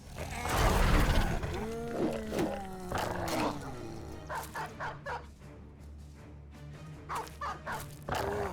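War dogs attacking in the video game Battle Brothers, a burst of barking and snarling followed by scattered yips, growls and whimpers, with short bursts of combat noise between them.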